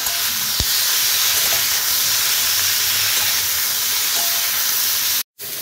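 Nigella seeds and asafoetida tempering in hot oil with green chilli and potato, a loud continuous sizzle and hiss close by with a few faint clinks, steady throughout until a brief cut near the end.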